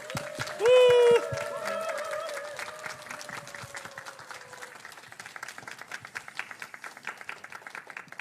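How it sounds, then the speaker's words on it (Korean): An audience at a church worship concert applauds to welcome a guest pastor. A brief loud tonal cry opens the clapping, then dense, steady applause carries on and slowly thins and softens toward the end. "우리 박수로 모셔보도록 하겠습니다"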